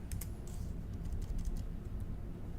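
Several quick clicks of computer keyboard keys, faint and close, with no voices.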